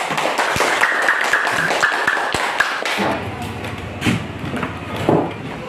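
A middle-school class claps for a student group after its presentation, a dense burst of overlapping applause lasting a few seconds, with classroom chatter and voices continuing over and after it.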